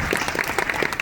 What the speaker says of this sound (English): I think they deserve some clap.